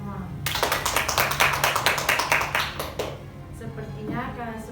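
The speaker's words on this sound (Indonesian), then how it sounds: "Tepuk tangan untuk kita semua." A group of schoolchildren clap their hands together in a classroom, a dense burst of quick claps lasting a few seconds before fading, with talk continuing around it.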